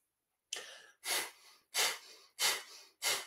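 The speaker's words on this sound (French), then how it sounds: "on va faire la respiration de feu" Breath of fire in a kundalini yoga practice: five sharp, forceful exhales through the nose follow one another at an even pace, close and alone, each a short rushing burst.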